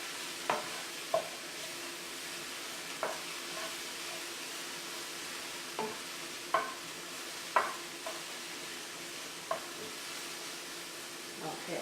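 Quinoa dressing ingredients sizzle steadily in a hot pan, with a spoon stirring and scraping at irregular intervals, close and fairly quiet.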